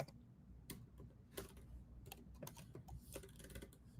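Keys on a computer keyboard are tapped in short irregular bursts, quiet close-up clicks entering a time zone into a form, with low background hum and no talk.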